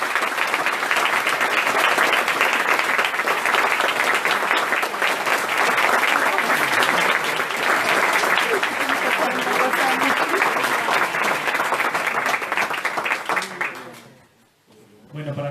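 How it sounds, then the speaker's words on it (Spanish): A lecture audience in Bariloche breaks into loud, dense applause welcoming a speaker, sustained evenly for about fourteen seconds before quickly dying away. "Pido que reciban a Pablo con un gran aplauso"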